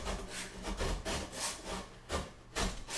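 Hand saw trimming the side of a wooden dance pad frame piece, close and loud, with repeated back-and-forth rasping strokes in an uneven rhythm and no voices.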